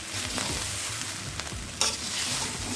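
Cauliflower rice sizzles and fries in a hot pan while a spoon stirs and scrapes through it in repeated strokes, with one sharp clink partway through; steady and close, no voices.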